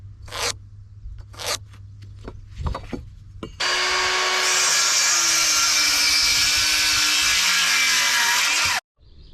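A power saw cuts lumber for a solar shed build: a few knocks and handling sounds, then a loud, close, sustained whining cut lasting several seconds before stopping abruptly.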